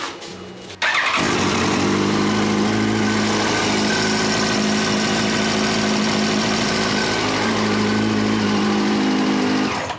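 A Yamaha FZ1-N motorcycle engine with new downpipes fires up and runs loud and steady close by, with a rough, rapid exhaust rumble that holds for several seconds.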